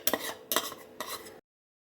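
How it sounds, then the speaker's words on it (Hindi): A spoon mixes ground spices into half a kilo of yogurt in a bowl for mutton biryani. Three quiet scraping, clinking strokes come in an even rhythm, followed by silence. "चम्मच की मदद से मिक्स कर रही हूँ"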